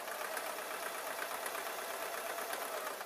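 Sewing machine stitching the top of a bootie slipper: a fast, continuous mechanical whirr with a steady even rhythm, close and moderately quiet, running alone throughout.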